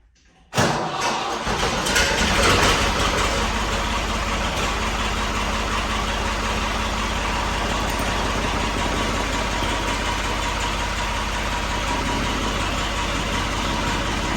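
A Ford 3930 tractor engine cranks and catches, then runs steadily at a loud, close idle with a constant low rumble and no talk over it.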